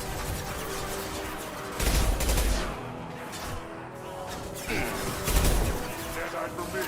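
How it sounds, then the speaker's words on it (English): Impact shot gunfire from Mass Effect, with heavy bursts of shots and booms at two points over steady game noise, mixed with other battle sounds. "Firing an impact shot"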